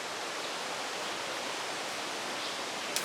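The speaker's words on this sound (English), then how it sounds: "And the river is behind us there. You can hear it." A river flows behind a forest trail in Cranbrook Flower Forest, Jamaica, a steady broadband wash of rushing water, constant and unbroken, with no voices.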